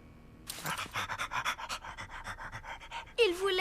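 A cartoon child imitates a dog, panting in quick rhythmic breaths right up close and loud for about three seconds, followed by a brief whining vocal sound.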